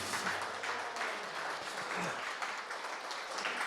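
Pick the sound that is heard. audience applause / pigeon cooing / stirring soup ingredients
audience applause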